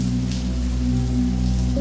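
Steady, close shower spray pouring down into a bathtub, a continuous even hiss of falling water with no voices.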